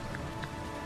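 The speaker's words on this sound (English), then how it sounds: "The rain is deafening now" Heavy rain in a video game hisses as a dense, steady wash, loud and close, with a few faint drop spatters and no voices.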